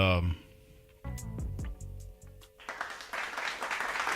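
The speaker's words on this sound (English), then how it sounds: "giving you a round of applause for joining us" A burst of crowd applause, used as a sound effect on a Pelicans post-game basketball podcast, rises in the last second and a half as a steady, moderately loud wash of clapping after some brief tonal sounds and voices.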